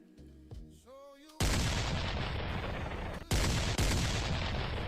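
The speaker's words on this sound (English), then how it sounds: "How about this boom?" Explosion boom effects in a PokerStars Spin & Go online poker game: after a short tonal jingle, a loud sustained blast rumbles on, then two more sudden booms crash in, close and heavy, with no talk.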